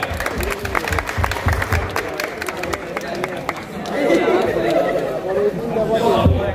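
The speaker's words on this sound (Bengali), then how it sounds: "হাততালি সবাই" Clapping from a crowd at a Pohela Boishakh celebration at Chungnam National University in South Korea, mixed with loud chatter and voices talking close by, the clapping thickening into a denser burst in the second half.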